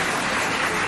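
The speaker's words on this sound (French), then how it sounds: "On applaudit encore pour les deux équipes." Audience applause at a school quiz contest between two lycée teams in Sarh, a steady dense wash of clapping filling the whole second, loud and unbroken.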